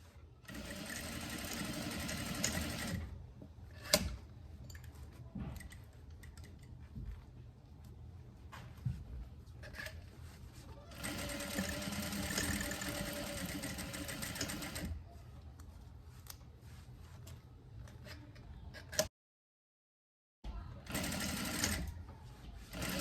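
Sewing machine running in bursts to back stitch a ruffle layer skirt, several loud close runs of steady whirring with short pauses and one brief silent gap.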